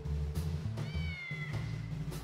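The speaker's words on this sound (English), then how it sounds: "Well, yeah, there's a cat there." A cat meows clearly and close by, a single drawn-out call against a steady low background hum.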